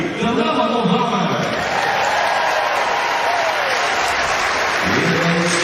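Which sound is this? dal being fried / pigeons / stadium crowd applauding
stadium crowd applauding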